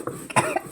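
A person coughs, irritated by pungent dried-chilli fumes while grinding chillies for a dried-fish bhorta at night. The cough is short, close and sharp, with a couple of quick bursts in under a second.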